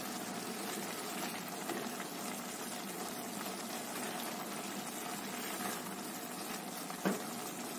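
Water simmers steadily in a pot of Piedmontese rice on the stove, a continuous bubbling hiss at even loudness throughout, with a small clatter near the end and no talk.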